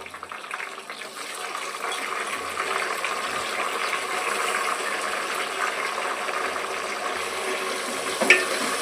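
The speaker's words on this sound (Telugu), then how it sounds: "ఇవి రెండు బాగా వేయించుకోవాలి." Onions and tomatoes sizzle in a generous amount of oil for a Nellore-style fish curry, a steady close hiss of frying that runs throughout with a brief clatter near the end.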